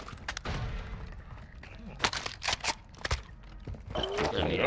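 AK-74U assault rifle fire in Call of Duty: Modern Warfare II comes as sharp bursts of shots scattered across a few seconds, fairly quiet, with a faint voice or two in the background.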